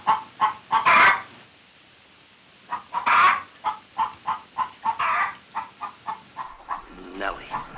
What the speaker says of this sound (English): Lay, hen, lay.